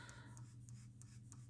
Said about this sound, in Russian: Шерсть я рисую, опять же, боковой частью карандаша.